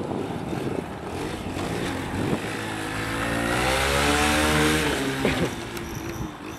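A motorbike engine revs up in a rising, then falling, whine, held loud for a couple of seconds in a bid to pull a wheelie, with rougher idling before and after.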